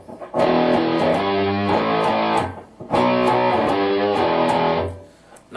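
An electric guitar runs through a pedalboard with thick crunch distortion, playing two loud sustained chord passages separated by a brief pause, each ringing out fully before fading near the end.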